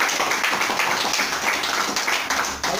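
A church congregation clapping hands during a sermon, a continuous mass of claps at moderate volume, slightly rhythmic and lasting the whole stretch without speech.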